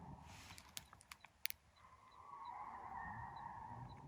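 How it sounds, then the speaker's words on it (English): A car drifts in the distance on a mountain road at sunset, its faint tire squeal rising and wavering, preceded by a few close, quiet clicks and taps. "there's like some car drifting crazy, bro"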